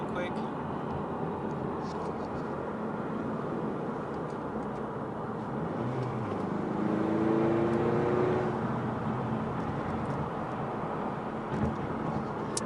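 A turbocharged Mustang pulls briefly in 5th gear, a steady cabin engine drone swelling into a louder rising tone for a couple of seconds before easing back, with a person talking over it.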